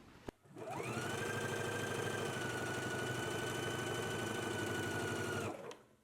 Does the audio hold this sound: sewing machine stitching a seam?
yes